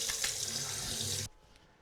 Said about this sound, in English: So, next, I'm going to wash my face.